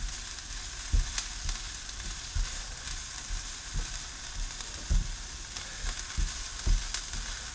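Onions frying in a pan for lemon rice pilaf, a steady hissing sizzle broken by soft periodic knocks of stirring, close and fairly quiet, with no talk.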